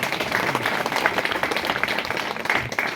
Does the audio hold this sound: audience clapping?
yes